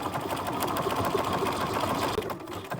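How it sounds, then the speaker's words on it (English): A home sewing machine stitching a buttonhole on a costume tabard, its rapid steady needle chatter running continuously and close by. "So I have the buttonhole option on my sewing machine"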